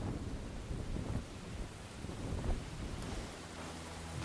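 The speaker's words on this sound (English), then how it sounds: "I don't like this rain. I have a feeling rain is bad for me." Rain and rolling thunder in the Enshrouded video game, a steady downpour hiss under low rumbling swells that build and fade, with no talk.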